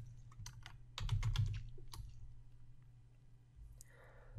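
A few quick, quiet keystrokes sound on a computer keyboard as a short word is typed, coming in a small cluster of clicks and then going quiet, close and faint.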